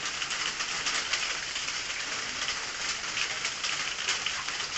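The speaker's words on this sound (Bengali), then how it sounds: "আরো জোরে বৃষ্টি।" Heavy rain pouring steadily on surfaces outdoors during a vehicle puja, a dense, even hiss with no pauses and no voices.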